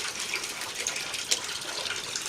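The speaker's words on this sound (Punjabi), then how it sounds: "ਸੁਰਾਖ ਦੀ ਵਜ੍ਹਾ ਨਾਲ ਪਾਣੀ ਸਾਰਾ ਉਹ ਇੱਧਰ ਆ ਜਾਂਦਾ" Water gushes steadily from a hole in a hot-water pipe on a rose-water distilling setup, a loud, continuous broadband rush with one brief splash-like peak and no voices.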